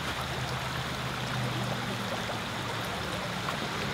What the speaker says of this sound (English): What I'm gonna do is stir up some water and get some sediment to rise up.